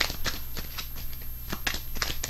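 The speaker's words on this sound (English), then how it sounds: "Let me try to shuffle these real good." Tarot cards are shuffled with rapid papery riffling, a series of short crisp bursts in quick irregular rhythm, close up with a faint steady hum beneath.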